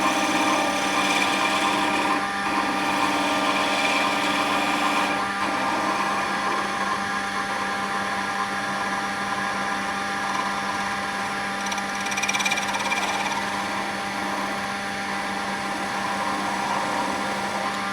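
A wood lathe spins a honey dipper blank while a cutting tool bites into the turning wood, giving a steady, loud mechanical whir with a constant hum and scraping hiss that continues without pause.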